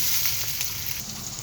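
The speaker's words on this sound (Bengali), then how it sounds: "এবার আমি আস্তে আস্তে নাড়াচাড়া করে পেঁয়াজটাকে সুন্দর করে একটু ভেজে নেব।" Onions fry in a pan for chaal biryani, salted and stirred slowly, giving a steady, close crackling sizzle with faint scraping underneath and no voices.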